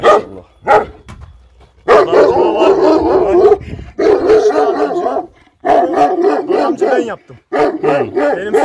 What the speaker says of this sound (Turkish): Köpek havlamasından dolayı sesimiz gelmeyebilir